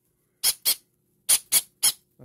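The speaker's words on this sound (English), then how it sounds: "So that's my little squeaky cheeky baby, my green cheek conure." A green-cheeked conure, a small parrot, gives five sharp, high squeaks in two quick bursts, two close together then three more, followed by a soft low sound at the end, close and clear against silence.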